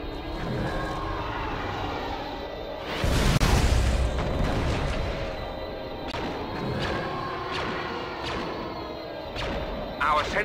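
Explosions and heavy booms from a space battle over Yavin in Star Wars Battlefront II (2005), with a loud burst near the three-second mark. Continuous dense combat noise and scattered blasts surround it throughout.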